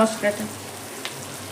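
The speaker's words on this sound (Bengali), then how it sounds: "মশলাটা দিয়ে কিন্তু আমি এবার ভালো করে কষিয়ে নেব।" Masala paste made with ginger paste, frying in a pan for chicken bharta, gives a steady soft sizzle with brief scrapes near the start. The sound is close and continuous and carries no talk.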